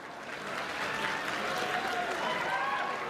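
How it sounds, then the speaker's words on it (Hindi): A large crowd claps loudly and steadily at an outdoor government event in Maghar nagar panchayat: the chief minister's mass wedding ceremony for 600 couples. The dense applause stays full and unbroken throughout. "आप सभी की जोरदार तालियों के साथ"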